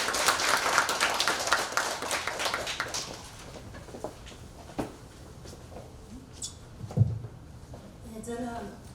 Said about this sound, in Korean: 우리 강연대 나오실 때 힘찬 박수 한번 부탁드리겠습니다.